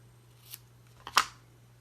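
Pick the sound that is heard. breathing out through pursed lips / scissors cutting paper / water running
scissors cutting paper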